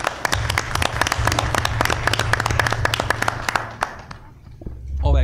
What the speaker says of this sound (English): All that clapping's for you